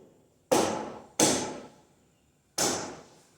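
A chisel cuts into oak timber on a bench under three sharp, resonant strikes, two close together and a third after a pause, each ringing out briefly, with no talking.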